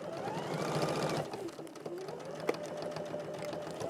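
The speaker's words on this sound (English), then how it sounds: "I'm just going to sew along that edge to hold the pleats into place." Sewing machine stitching along a fabric edge to hold pleats in place, a fast steady whirring run that slows and fades, fairly close and moderately quiet, with no voices.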